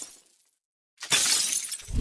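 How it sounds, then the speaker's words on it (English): Tesla bulletproof glass breaking on stage, heard as a brief quiet lead-in, a moment of silence, then a sudden loud, bright crunching shatter with a sustained crackle of fracturing glass. "there will be falcon wings and bulletproof glass that broke on stage."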